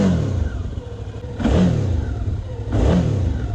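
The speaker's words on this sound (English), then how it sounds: "So yeah, engine sound, let's cover that. 650 XT," A Suzuki V-Strom 650 XT motorcycle engine idles with a steady mid-pitched rumble, then is revved twice in quick blips that rise and fall, heard up close with no talking.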